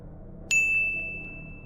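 A single bright notification bell ding strikes sharply and rings out with a clean sustained tone over a faint background hum.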